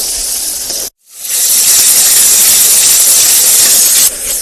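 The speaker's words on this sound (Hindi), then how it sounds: "तंदूर तो बहुत ही ज़्यादा गर्म हो गया, ऐसे एकदम गैस की तरह चल रहा है तंदूर" Very hot outdoor tandoor roaring like a gas burner, a loud, close, steady hissing roar that drops out briefly near the start and then returns.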